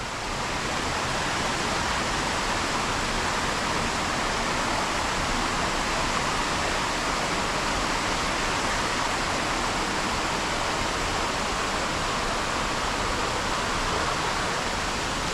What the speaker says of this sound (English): it's a very popular waterfall to come and visit